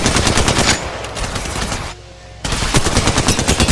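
Rapid automatic gunfire in the mobile battle-royale game Apex Legends Mobile, loud dense bursts with a short pause in the middle before the shooting resumes.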